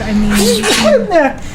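A single sneeze bursts out close and loud in the middle of casual conversation, with people talking just before and after it.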